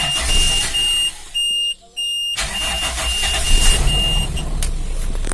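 A car engine cranks over with its starter in two short attempts, with a brief pause between, then catches and runs at a steady idle close by, with no voices.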